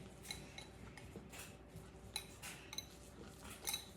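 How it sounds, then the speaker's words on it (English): A whisk clinks quietly against a bowl while grated pecorino is beaten into egg yolks for a carbonara mixture, a faint, rapid, irregular tapping heard alone at low volume. "just pour in the pecorino, and then just whisk together until it's all combined"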